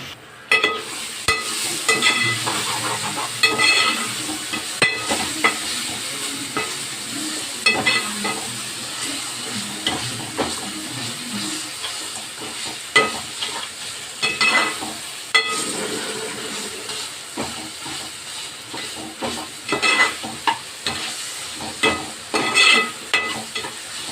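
Tomato thokku sautés in a pan, with continuous sizzling and frequent scraping stirs and clinks of a utensil against the pan, close and fairly loud.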